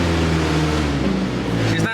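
A 1994 Ford Ranger pickup running on vodka mixed into the fuel, its engine a loud close uneven drone that wavers and stumbles near the end, with someone talking over it.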